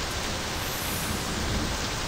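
Steady rain falls in the driving game My Summer Car, a dense, even hiss of downpour that stays constant throughout with no voices or other distinct sounds over it.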